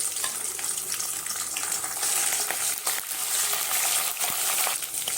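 Garlic frying in hot oil with green chilies and curry leaves for South Indian tomato thokku, a steady close sizzle with faint stirring scrapes running throughout, no voices.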